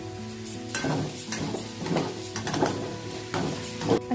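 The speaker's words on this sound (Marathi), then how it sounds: "असे व्यवस्थित आपण परतून घेऊया।" Halim seeds roast with jaggery in a pan while a spoon stirs them, producing regular, rhythmic scraping strokes over a steady frying sizzle, heard close up with no one talking.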